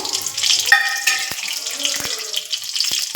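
Mustard seeds and cumin frying in hot oil for a radish sambar, a bright hissing crackle with scattered pops and sharp ticks, close and steady throughout, without any talk.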